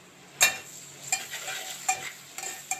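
Ginger-garlic paste frying in a pan for palak paneer, a soft sizzle punctuated by several sharp spoon scrapes and stirs at irregular intervals, close and clear with no voices.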